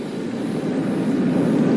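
The steady, broadband drone of an airliner's engines at cruising altitude, used as a sound effect in a 1975 radio mystery drama. The hum is continuous and fairly loud and swells slightly, with no voices over it.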